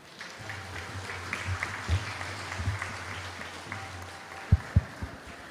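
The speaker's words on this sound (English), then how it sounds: "we can give a big round of applause for Rupanuga Prabhu" An audience claps at a Hare Krishna Sunday feast gathering, steady applause running throughout with a low hum beneath it and a few sharp, louder claps near the end.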